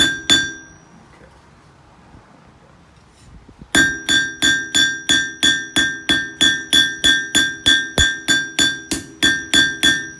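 A hammer striking hot steel on an anvil while bending the fishtail of a forged J-hook: one early ring, a quiet pause, then a steady run of bright, evenly spaced ringing blows.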